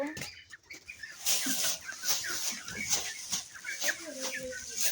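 Chickens on a farm clucking and chirping in scattered bursts, mixed with faint rustling and a person speaking over them, fairly quiet and close.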